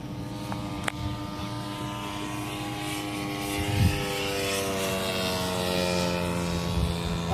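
A propeller-driven dive bomber aircraft comes in to land, its engine droning steadily and fairly loud throughout, with a steady layered tone and a brief swell partway through.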